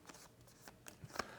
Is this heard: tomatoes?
no